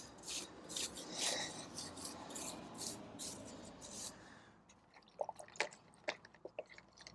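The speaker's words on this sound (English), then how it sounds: "Give the faces a quick brush first." Car wheel faces on a Range Rover being brushed during a snow foam wash, a soft continuous scrubbing swish with wet drips and squelches, fairly quiet, followed by sparse wet clicks and taps.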